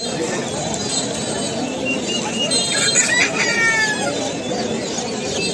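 Native chickens at a weekly village market, with a rooster's crow and scattered clucks rising out of steady crowd chatter and nearby voices.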